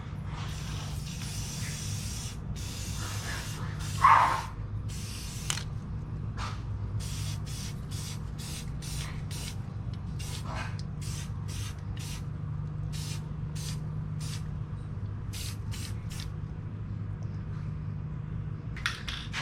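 An airbrush or spray can lays Blossom White paint onto the interior parts of a model truck, a Ford build. Short bursts of spray hiss repeat in an irregular rhythm over a steady low compressor hum, with one small clatter early on.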